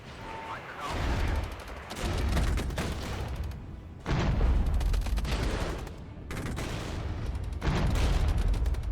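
Bursts of gunfire and booming artillery from the war strategy game Regiments, coming in dense rolling volleys with short gaps between them, loud and continuous with no talking over them.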